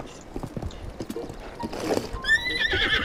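A horse in the Breath of the Wild video game whinnies with a rising, ringing neigh toward the end, after a stretch of close, rhythmic hoof clip-clops.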